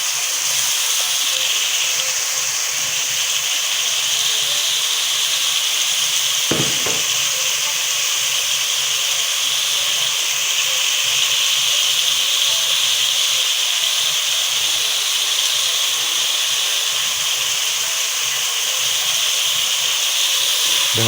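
Squid and prawns frying for seafood rice, a loud steady sizzle and hiss from the hot pan lasting throughout, with one brief clink near the start and no voices.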